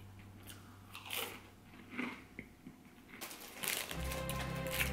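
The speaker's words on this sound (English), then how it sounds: "Very crunchy, that's for sure." Someone bites into a hard, rock-solid biscotti, producing a few sharp crunches followed by gritty chewing, quiet and close, with no speech.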